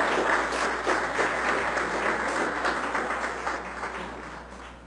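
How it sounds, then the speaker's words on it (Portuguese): Applause from an audience at a municipal council session, honouring a student; the clapping is steady and fairly even throughout, easing off slightly toward the end. "Uma salva de palmas para a estudante."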